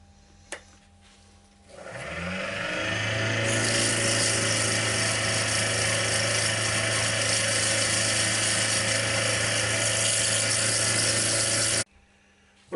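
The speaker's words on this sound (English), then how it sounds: "Well, I think that'll do for the sanding." A wooden bowl sanded on a lathe: a steady loud motor whine with a constant rasping hiss of sandpaper against spinning wood, running unbroken for about ten seconds before cutting off abruptly.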